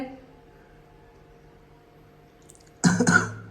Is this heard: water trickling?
no